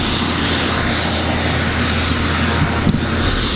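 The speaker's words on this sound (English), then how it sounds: "Another private jet just landed." A private jet roars steadily nearby as it lands, a loud continuous engine rush with a brief bump near the end, no voices.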